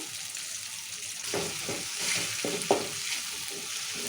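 Tomato curry in a pan, with turmeric just added, sizzles steadily while a spoon stirs it in a few scraping strokes close by.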